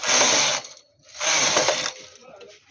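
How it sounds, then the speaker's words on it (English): A knitting machine carriage makes two mechanical ratcheting passes across 22 by 22 needles knitting 3-ply wool, each pass a loud clattering sweep of about half a second with a brief pause between, close and with no talk. "So now I'm going to knit 2 rows right now."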